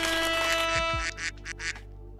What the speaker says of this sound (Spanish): El pato.